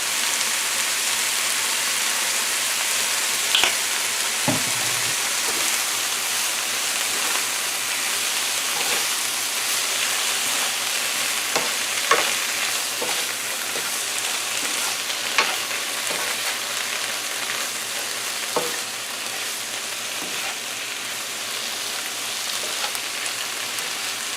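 Pepper shrimp seasoned with salt and black pepper fries in a pan with a steady, dense sizzle throughout, while occasional soft scrapes and clicks of stirring break through the continuous hiss.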